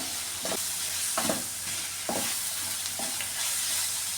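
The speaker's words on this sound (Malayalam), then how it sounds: "ജീരകപ്പൊടി ഇത് ഇതിലിട്ട് നന്നായിട്ടൊന്ന് ചൂടാക്കി എടുക്കാണ്" Cumin powder and onions stir-frying in a pan for a raw banana thoran, giving a steady close sizzle broken by repeated scraping stirs; no talking.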